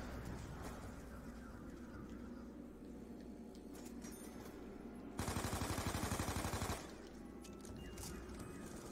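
Gunfire in Call of Duty Black Ops 2 multiplayer: one rapid automatic burst of about a second and a half stands out over a quiet, steady background rumble, with faint scattered shots around it.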